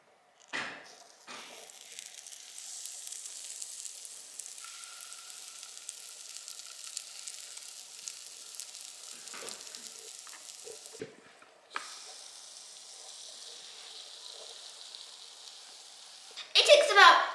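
S'mores batter sizzling in a mini waffle maker with a long, steady hiss that pauses and resumes, with a few brief clicks and a louder burst at the end.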